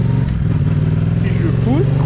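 A motorcycle on the move rumbles steadily and close, its engine note shifting slightly as the bike leans, with someone talking over the ride.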